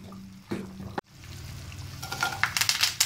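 Cumin seeds hit hot oil for a kadhi pakora tadka, crackling and sizzling close up in a short burst that grows busier after a brief clatter of a pan or spoon.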